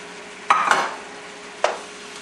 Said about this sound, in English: Don't forget to stir your zucchini and your onions.